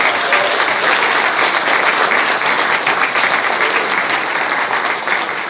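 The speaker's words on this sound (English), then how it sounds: "please make her feel less nervous with a big round of applause" An audience at a live housing-market meet-up breaks into a big round of applause, dense, steady clapping from many hands that carries on for several seconds before easing slightly.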